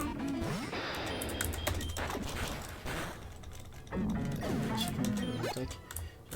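A Pokémon Infinite Fusion character repeatedly bumps into walls, producing dull, clunky knocks in steady succession over continuous game music. The sound is fairly loud and busy throughout, with a brief dip midway.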